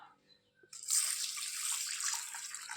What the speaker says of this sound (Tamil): அதையும் நாம் தண்ணியை விட்டு களைஞ்சி ஊற வச்சிட வேண்டியது தான்